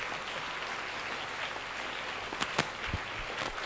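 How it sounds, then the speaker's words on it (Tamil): An audience at a Margazhi music festival claps steadily to welcome children onto the stage; the applause is a dense, sustained patter that fills the whole moment, with a few sharper claps near the end. "இப்போ நீங்கள் உங்கள் குழந்தைகள்லாம் வரவேற்கிற மாதிரி ஒரு கைத்தட்டல் கொடுங்க"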